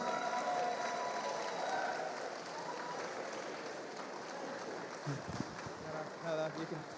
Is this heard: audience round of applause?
yes